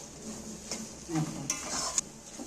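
Raw mango for a sweet-sour pickle is stirred in a pan, with soft scraping strokes and light clinks of a spoon against the pan over a faint sizzle, quiet and close.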